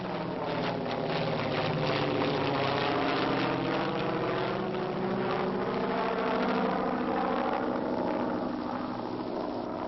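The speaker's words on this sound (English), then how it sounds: "Note the takeoff of the PBY before the glider." A World War II PBY flying boat takes off ahead of a towed CG-4A glider, its piston engines holding a steady droning roar with a slowly rising pitch that stays loud and continuous throughout.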